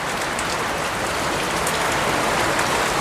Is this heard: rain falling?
yes